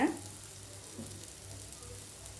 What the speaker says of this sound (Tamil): கேரட்டும் நம்ம துருவி போடுறதுனால குயிக்காக ஃப்ரை ஆயிருங்க.